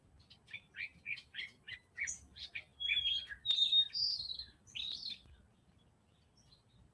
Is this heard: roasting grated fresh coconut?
no